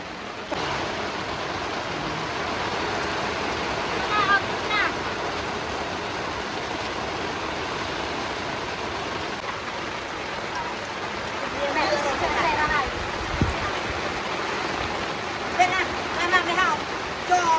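Heavy rain pours steadily onto a forest campsite, a dense, loud, unbroken hiss with scattered louder drops and splashes close by.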